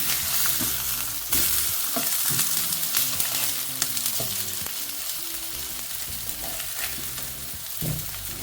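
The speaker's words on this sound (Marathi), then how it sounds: "खाली पोस्ता रवा फ्राय." Semolina-coated kingfish slices fry in hot oil for a Goan kingfish fry. A loud, dense sizzle runs throughout with intermittent spatters and pan clatter.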